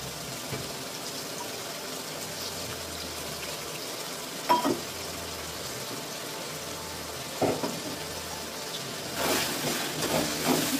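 Ginger, onion and garlic paste frying in ghee, a low continuous sizzle broken by a few scraping stirs and a wetter bubbling burst near the end.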